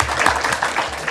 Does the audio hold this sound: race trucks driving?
no